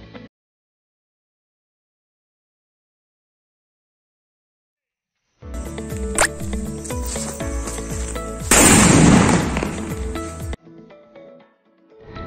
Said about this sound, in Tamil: நம்ம ப்ராடக்ட் வெடித்து பார்ப்போம் அதனுடைய குவாலிட்டி, அதனுடைய சவுண்டெல்லாம் எப்படி இருக்குது